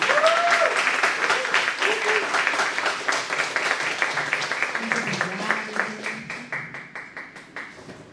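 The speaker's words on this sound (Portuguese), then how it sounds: "eu gostaria de pedir uma salva de palmas para o nosso convidado" An audience claps for a guest speaker at a poetry talk, sharp individual claps thinning out gradually, with a voice speaking at the start and briefly later.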